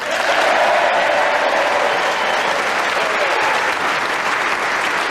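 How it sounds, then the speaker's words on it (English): Sustained applause from a Yorkshire studio audience honouring the winner of a panel game, loud and continuous from the start, easing only slightly toward the end. "they applaud her to the ceiling for winning the game"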